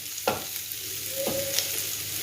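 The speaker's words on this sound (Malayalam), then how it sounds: "നമ്മുടെ ചിക്കൻ ഓൾമോസ്റ്റ് ഗ്രില്ലായി വരുന്നുണ്ട്" Chicken pieces grilling in a hot pan for chicken majboos sizzle steadily and closely, with a couple of clunks from turning or stirring.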